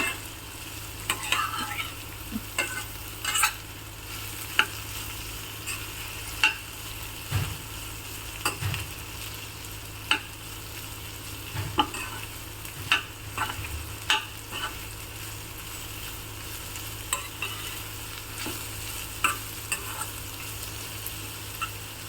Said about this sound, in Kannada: ಇವಾಗ ಇದನ್ನು ಎಣ್ಣೆಯಲ್ಲಿ ಚೆನ್ನಾಗಿ ಫ್ರೈ ಮಾಡ್ಕೋಬೇಕು